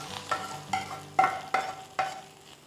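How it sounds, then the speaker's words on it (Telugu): Spoon stirring tempering into cooked rice for pulihora, a tamarind or lemon rice dish, stove just switched off; several distinct scraping strokes at a steady rhythm, close and clear, with no talk. "ఇప్పుడు ఈ కలిపి పెట్టుకున్న అన్నంలో ఈ పోపు పెట్టేసుకుందాం."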